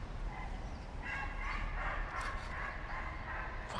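A dog barks repeatedly some distance away, muffled and faint over steady background hum and street noise, with no talk.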